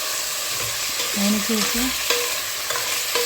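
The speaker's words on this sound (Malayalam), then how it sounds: "ഒരു 3 മിനിറ്റ് എണ്ണയിലിട്ട് നന്നായിട്ടൊന്ന് വഴറ്റിയെടുക്കണം." Mutton sautéing with spices in hot oil, a steady sizzle with intermittent stirring scrapes, and a short spoken word near the start.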